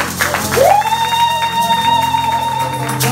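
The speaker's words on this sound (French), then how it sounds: "With a clap offering." Church congregation giving a clap offering, a crowd clapping and cheering loudly with whoops, nearby, while a sustained tone rings over the noise.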